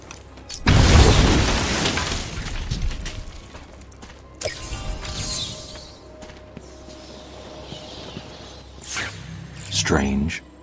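A loud explosion from the Batman: Arkham Asylum video game erupts about a second in as a heavy booming burst, then rumbling debris and mechanical clatter fade under game ambience, with a second swell of noise near the end.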